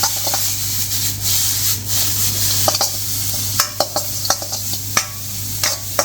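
A spoon stirring and mixing onion, garlic and ginger powder into vegetable stir fry rice, with steady sizzling and a series of sharp scraping knocks against the pan, close and fairly loud.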